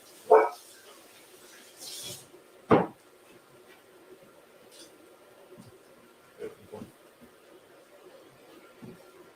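A dog gives a few sharp barks, loudest at the start, then quieter intermittent yips and thumps against a faint indoor background.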